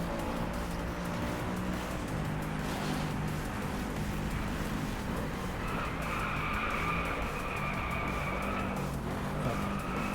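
Tyres squeal as a car skids in Driveclub, a sustained high screech riding over a loud, constant engine roar, rising and wavering for several seconds in the latter half.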